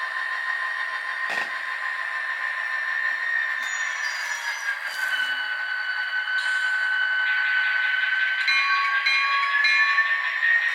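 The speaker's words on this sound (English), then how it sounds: "You can hear the air compressor just kicked on there." The air compressor of an Atlas HO scale GP40-2CU model locomotive in NECR livery kicks on, a steady mechanical hum under the diesel idle with brief hisses and clicks, close and alone.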